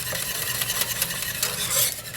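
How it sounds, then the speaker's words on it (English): Salad dressing with lemon juice being whisked steadily in a bowl, a close, continuous scraping and stirring rattle of the whisk against the sides. "And now we're going to keep whisking this until it gets thick."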